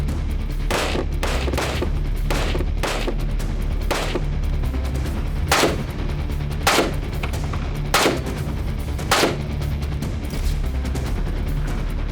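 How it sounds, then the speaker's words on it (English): Rapid volleys of rifle fire on a shooting line during a military rifle torture test round, with sharp shots coming in uneven bursts over steady loud background noise, a few louder cracks standing out near the end. "pick that one up, load it, shoot their target 5 times"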